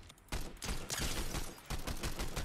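Gunfire in Fortnite: a burst of rapid shots starts sharply and continues in dense volleys with brief dips, fairly near and sustained throughout.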